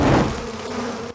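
Cartoon bees buzzing around a hive in an animated comedy, a dense, loud droning swarm with a steady hum that fades slightly before cutting off abruptly near the end.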